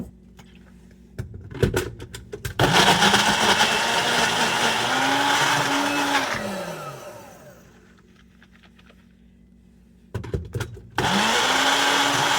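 A Ninja BN301 Nutri-Blender crushes frozen strawberries for a small smoothie, a loud motor whir in two bursts of several seconds each, with the pitch sliding as the load changes and brief clicks before and between the runs.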